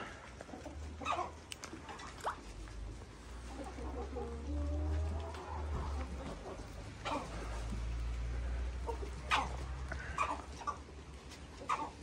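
Adler breed chickens squawking and clucking while eating feed on a farm, scattered cries and clucks over a low rumbling background, with a dog-like bark now and then.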